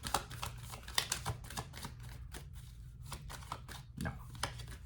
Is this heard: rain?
no